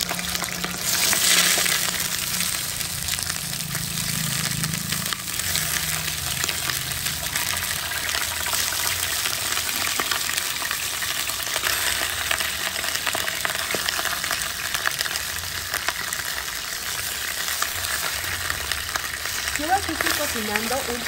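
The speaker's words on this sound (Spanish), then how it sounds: "ahora vamos a freír el pollo" A whole chicken with its skin on sizzles in hot oil in a pot for pollo azteca, a loud, steady, close hiss of frying that continues without a break.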